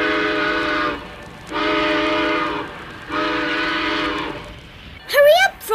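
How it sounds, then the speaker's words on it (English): Three long, loud, steady whistle blasts from a departing train in a 1969 Rankin/Bass animated Christmas film, each separated by brief pauses, followed by a short burst of voice at the end. "The train is pulling out."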